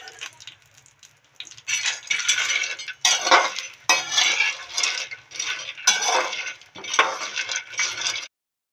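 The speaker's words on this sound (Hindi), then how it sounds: "हमने इसके अंदर घी डाल दिया है। अब हम काजू भुनेंगे।" Cashews roasting in ghee in a pan are stirred in rhythmic scraping, rustling bursts with brief gaps, fairly close and moderately loud, stopping abruptly at the end.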